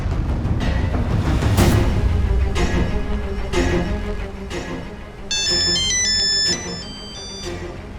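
A phone ringtone on an outgoing call plays loudly and continuously, a bright repeating melody with a higher chiming phrase layered in partway through.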